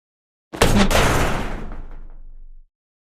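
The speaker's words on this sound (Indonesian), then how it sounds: "Buka pintu ini, saya dobrak ya." A door is kicked in with a single heavy, loud bang that rings out and decays over about two seconds, with nothing heard before or after.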